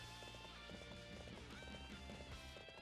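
Rapid rhythmic hoofbeats of a galloping horse in the video game Dynasty Warriors 7 on PC, steady and close, set over a continuous music-like background with no talking.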